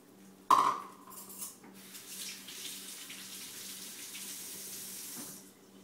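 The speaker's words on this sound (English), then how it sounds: "I went and rinsed off my measuring spoons." Kitchen tap running into a sink while measuring spoons are rinsed, starting with a clink of metal on the basin, then a steady close splashing stream that stops near the end.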